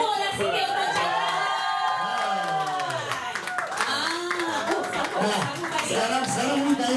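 Crowd at a live concert claps and cheers with whoops and shouts, mixed with singing voices and sustained music tones throughout.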